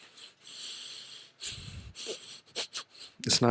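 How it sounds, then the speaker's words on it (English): Close, airy breaths come in uneven bursts, some raspy and wheezy, with short pauses between inhales and exhales. "I can hear me breathing"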